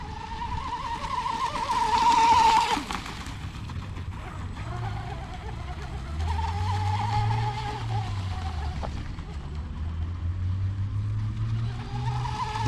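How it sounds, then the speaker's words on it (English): Hydroplane boat engine racing across water at about 30 miles an hour, a steady buzzing drone rising and falling with throttle, heard from a distance with wind and water noise. "Trick with these hydros is you can't really get off the throttle right away, or else you'll nosedive."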